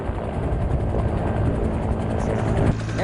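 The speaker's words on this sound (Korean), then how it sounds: "조종사들의 일부나 마찬가지인 코브라 헬기" A Cobra attack helicopter flies with an army helicopter unit, its loud, continuous rotor chop and engine drone steady throughout a few seconds, with no one speaking.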